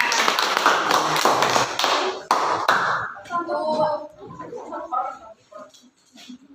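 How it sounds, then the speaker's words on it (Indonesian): Seventh-grade students clapping hands in a science class, several sharp bursts of claps in the first three seconds, then the clapping stops and quieter taps and voices follow. "Iya, tepuk tangan."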